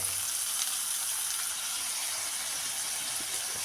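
Green chili and sliced onion softening in a hot pan, a soft, steady frying sizzle with a faint watery crackle running alone for a few seconds.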